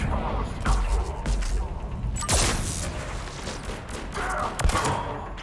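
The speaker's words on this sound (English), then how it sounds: "Commander, we're getting a lot of mortar fire." Mortar fire in the sci-fi shooter Mass Effect 3: distant booming impacts and scattered fusillade-like bursts roll through a few seconds of battle ambience, fairly quiet overall.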